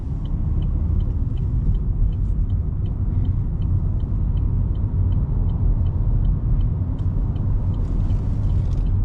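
Steady road rumble of a Chevy Spark small car cruising at highway speed, a continuous low drone with faint ticking and hiss throughout, no voices.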